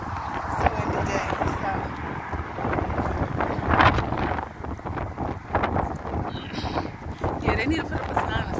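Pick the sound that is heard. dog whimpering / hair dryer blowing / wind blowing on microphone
wind blowing on microphone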